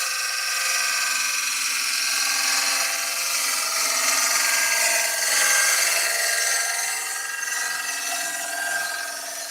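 An ash bowl spins on a wood lathe at 1300 rpm while a tool cleans up the rim, giving a steady, even whirring hum with a soft hiss of cutting, continuous and moderately loud with no talking.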